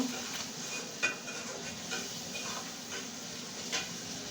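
Spices with ginger-garlic paste and turmeric powder are stirred in a pan, giving quiet, irregular scraping and light ticking utensil taps over a low background sizzle, with no talking.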